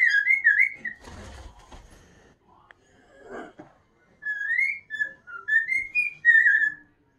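A cockatiel whistles in bright, rising and falling phrases, with a burst of rustling and a short gap before a longer run of whistled notes.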